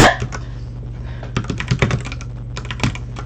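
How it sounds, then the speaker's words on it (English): Rapid typing on a computer keyboard, close and clear, in irregular bursts of clicking keystrokes with short pauses between them. "my second time typing this!"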